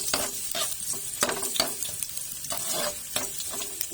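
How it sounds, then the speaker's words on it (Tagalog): Ginger sautés in a pan with steady sizzling and frying hiss, broken up by repeated scraping strokes of a stirring utensil, close and fairly quiet. "Unahin ko talaga ang luya. Igisa natin."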